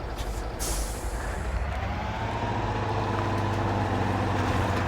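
A truck's air brake hisses loud and close in the Spintires: MudRunner off-road game, with a sharp release at the start and then a long steady rush of air over a low engine rumble.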